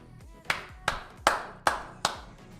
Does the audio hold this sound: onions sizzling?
no